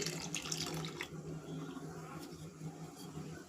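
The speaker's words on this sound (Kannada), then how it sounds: "ಇಲ್ಲಿ ಕೇಸರಿ ದಳನ ಹಾಲಿನಲ್ಲಿ ನೆನೆಸ್ಕೊಂಡಿದೆ ಹಾಕ್ಕೊಳ್ತಾ ಇದ್ದೀನಿ" Saffron-soaked milk is poured into rice payasam, giving a quiet, close trickle of liquid that is strongest in the first second and then thins into a soft, steady flow.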